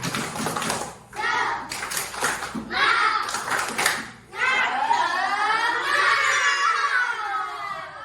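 Indonesian schoolchildren in a classroom chant loudly together in a rising, sing-song unison, with rhythmic clapping bursts at the start before the group voices carry on.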